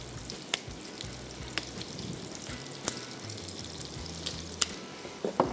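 Boneless chicken frying over a high flame gives a steady, fairly quiet sizzle with occasional sharp pops and spatters, and no voices.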